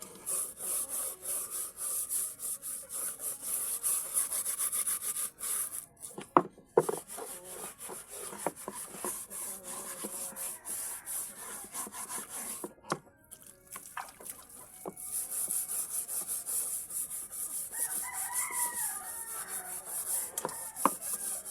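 A cooking pot being scrubbed clean by hand, with steady rasping, scraping strokes that come in bursts, pause briefly and resume, close and moderately loud with no talk.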